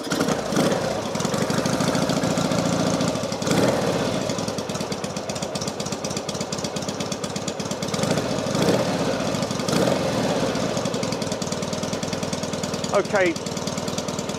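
A Norton Commando motorcycle engine runs steadily in a workshop, a continuous loud mechanical clatter throughout, with brief speech heard over it.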